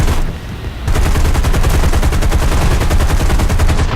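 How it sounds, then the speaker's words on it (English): Rapid aircraft gunfire in War Thunder, strafing ground targets, rattles in a loud continuous stream after a brief lull, the dense bursts sustained to the end. "I'm going to just show you if I can shoot a couple of these ground targets"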